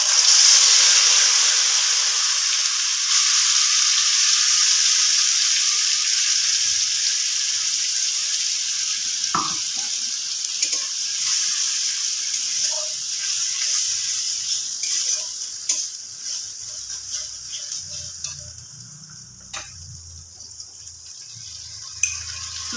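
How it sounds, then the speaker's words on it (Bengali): Bengali-style spice paste of whole cumin, ginger, chilli powder and turmeric frying in oil, a steady soft sizzle with occasional faint clicks and stirring scrapes, no talking. "মশলাটা কষতে থাকুক"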